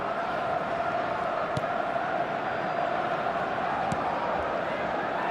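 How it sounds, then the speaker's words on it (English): A stadium crowd in an eFootball match roars in a steady, continuous wall of cheering and chanting, with faint thumps here and there. "Certainly gave this crowd something to really cheer about."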